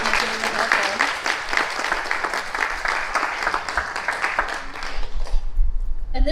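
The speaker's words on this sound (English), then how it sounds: "please give our funders a round of applause" Audience applause for funders at an exhibition opening, a dense steady patter of many hands that carries on for several seconds before tapering off near the end.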